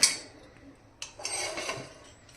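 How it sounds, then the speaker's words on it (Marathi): Elongated vadi rolls are set into a pressure cooker, with a sharp metallic clink at the start, another about a second later, then light scraping and knocking of metal cookware close by and no talk. "आता आपण त्याला कुकरमध्ये ठेवतो"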